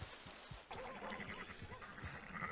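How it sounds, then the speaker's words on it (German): Sheep bleat faintly in the town of Valentine in the video game Red Dead Redemption 2, a few short calls over quiet ambient game noise. "Und hier sind doch immer wunderbar schön viele Schafe in Valentine."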